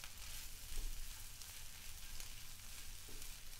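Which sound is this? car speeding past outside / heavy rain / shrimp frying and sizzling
shrimp frying and sizzling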